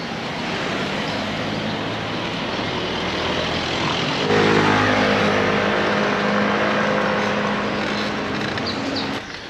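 A line of cars, apparently a wedding convoy, passes close by at night, giving a steady broadband road roar that thickens into a louder, denser rumble of several vehicles partway through before easing at the end.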